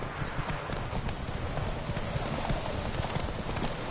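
Rapid, even hoofbeats of a horse galloping in the video game Witcher 3, a steady clip-clop running the whole time under a dense, full background of game sound.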